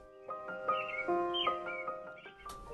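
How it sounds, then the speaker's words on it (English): Birds around a yellow cottage in spring give a run of harsh, ringing calls, about eight in an uneven rhythm, fairly close and clear, with no talking. "Singing brightly, the birds are messengers of happiness, greeting the spring on joyful wings."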